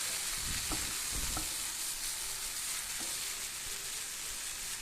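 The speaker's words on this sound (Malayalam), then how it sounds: "സവാള ചേർത്ത് നന്നായിട്ടൊന്ന് ഇളക്കി കൊടുക്കാം" Onions sizzle and fry steadily in a pan for Malabar-style prawn roast, with a few soft scrapes and knocks of stirring breaking through the constant hiss; no voices.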